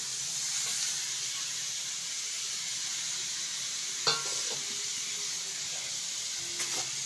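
An onion mixture for Manchurian fries in a pan with a steady, close sizzling hiss, broken by a couple of sharp scrapes and clicks as it is stirred.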